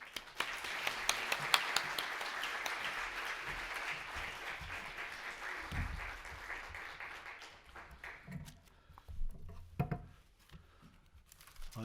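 A large church congregation applauds indoors at a worship service, a loud, dense wash of clapping that gradually fades out, leaving a few scattered claps and shuffling at the end.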